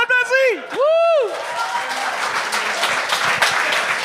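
Audience applause and cheering at a live comedy talent show, with a whooping shout from the stage at the start before steady clapping swells and continues.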